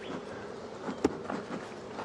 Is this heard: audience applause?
no